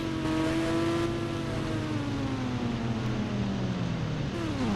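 Steady revving of a KTM motorbike engine in the Indian Bike Driving 3D video game, a continuous loud synthetic engine drone with pitch that holds, then slowly falls and rises again near the end.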